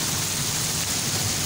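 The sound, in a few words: heavy rain at night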